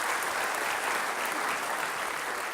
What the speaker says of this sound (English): let's give them a big round of applause for their incredible work